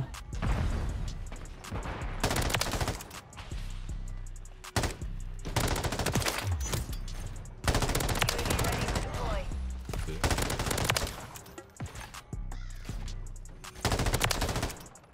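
Rapid bursts of gunfire from an M13B rifle in Modern Warfare 3 come in long, loud, dense volleys separated by brief pauses, close and dominating the mix.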